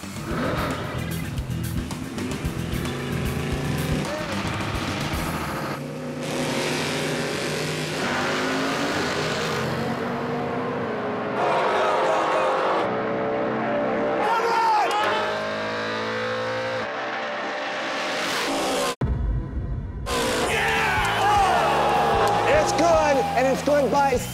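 Drag race cars run at Bandimere Speedway, their loud engine roar and revving sustained beneath a dense music bed, with talk and crowd sound layered over the top.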